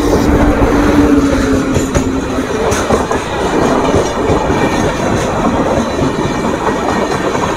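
A Digha–Howrah Tamralipta Express runs on rails near Kolkata with a steady, loud rumble and rhythmic clickety-clack of the wheels, plus a faint squeal early on, continuing throughout with no voices.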